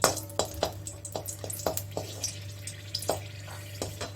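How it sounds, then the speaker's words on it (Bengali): Dried red chillies dropped into hot oil in a pan for lemon upma, sizzling up close with a steady hiss under a series of sharp clinks and stirring knocks spread irregularly across the clip. "এখন আমি এখানে দিয়ে দিচ্ছি শুকনো লঙ্কা"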